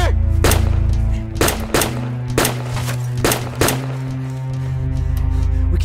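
Several sharp, loud gunshots ring out in an irregular burst of about six reports over a steady low engine-like drone, with no talking.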